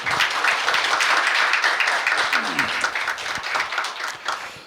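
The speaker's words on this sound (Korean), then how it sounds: "박찬하 의장님을 큰 박수로 맞이해 주시기 바랍니다" Audience applause welcoming a guest lecturer at a Korean lecture camp, close, lively clapping from a room that swells then gradually thins out toward the end, with a brief murmur in the middle.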